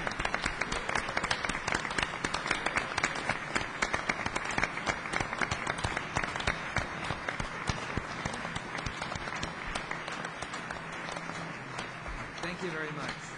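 A crowd applauds at an anniversary ceremony marking an internet milestone, with sustained, moderately faint clapping of many hands and a few sharper individual claps running through the whole stretch.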